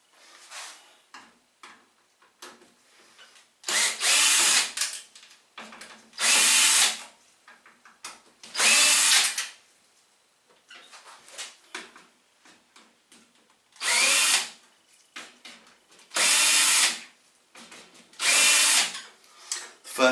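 An electric screwdriver drives screws out of a cooker's front panel in repeated loud whirring bursts of a second or two each, separated by quieter clicks and handling sounds.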